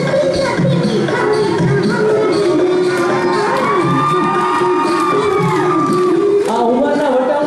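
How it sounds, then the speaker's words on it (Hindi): A large crowd at a women's day felicitation event cheers and shouts loudly and continuously, with clapping mixed in and excited voices rising and falling throughout. "जोरदार तालियों"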